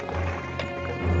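Horses with riders in a 1960 Western television episode, hooves clip-clopping in a quick, busy patter at moderate distance, heard alone for a short moment.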